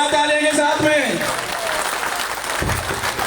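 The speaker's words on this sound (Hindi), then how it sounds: "जोरदार तालियों के साथ में" A crowd applauds energetically at a welcome for a local political leader in a village, with continuous dense clapping close by and a voice speaking over it.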